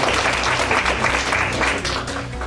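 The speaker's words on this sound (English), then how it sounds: "Please give her a round of applause." Audience claps at an opening bell ceremony in a steady, moderately loud round of applause over a low hum, tapering slightly toward the end.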